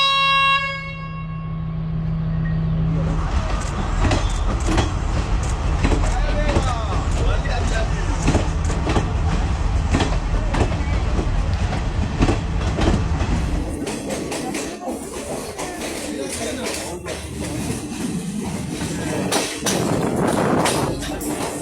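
A passenger train runs along a railway in Sri Lanka, opening with a sustained horn blast, then loud rumbling and clattering of wheels on track for the rest of the run, with voices faintly mixed in.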